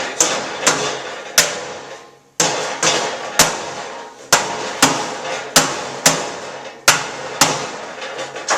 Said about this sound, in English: I will grab my rubber mallet and we'll smack this in place